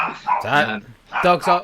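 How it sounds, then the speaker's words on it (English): Dog barking indoors during a podcast recording, two loud close bark bursts with a short gap between them. "And I do apologise about the barking."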